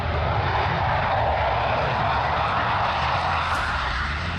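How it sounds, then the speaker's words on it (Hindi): An Indian Tejas fighter jet flies at the Dubai air show, its engine a loud, steady roar that holds throughout with no voices over it. "लेकिन जब बारी आई भारत के स्वदेशी लड़ाकू विमान तेजस की, तो वो अपने प्रदर्शन से दुनिया का ध्यान अपनी ओर खींचने में फिर से सफल रहा।"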